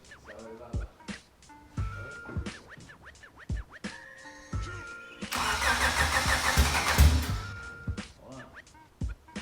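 Car engine cranking, catching and running loudly for a couple of seconds before cutting out, preceded and followed by scattered clanks and workshop noises, with brief speech in the background.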